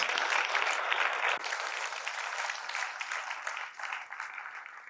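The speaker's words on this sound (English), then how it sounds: "Can we have a huge round of applause for them?" A school investiture ceremony audience claps for teachers, parents and the student council, a steady bright patter of applause that gradually thins and fades toward the end.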